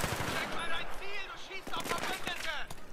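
Rapid automatic gunfire rattles through a Battlefield 3 firefight, bursts of shots sounding close and loud beneath excited German-speaking players talking over it.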